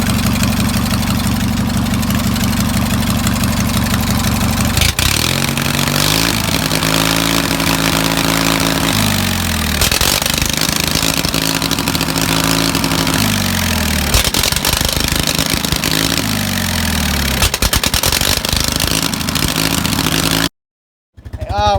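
A tractor engine runs loud and close, first idling with a steady low chug, then revving and shifting pitch repeatedly with rough knocking pulses before cutting out abruptly near the end.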